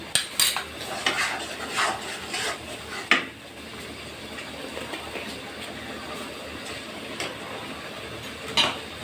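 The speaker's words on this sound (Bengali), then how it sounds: "এখানে যে আমি কলিজাটা ধুয়ে রেখেছিলাম সেগুলো আমি এখন মশলার ভিতরে দিয়ে দিলাম" Washed beef liver drops into spices in a cooking pan, bringing clattering scrapes and clinks of a utensil against metal over a continuous frying hiss, with several sharp knocks spread through.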